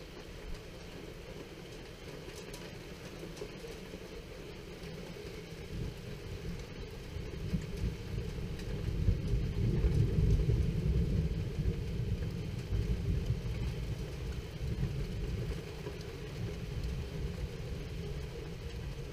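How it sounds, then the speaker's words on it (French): Heavy rain and distant thunder during a moderate multicellular thunderstorm in Tour-en-Sologne, France; a continuous rushing downpour with low rumbling that swells to a louder roll midway, then settles back. "Rideau de pluie là-bas qui arrive."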